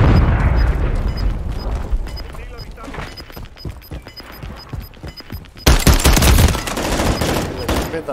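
Explosions and gunfire from the shooter game Call of Duty Modern Warfare III, with a loud grenade blast bursting in after a stretch of steady rattling gunfire and repeated beeps, with voices over the combat.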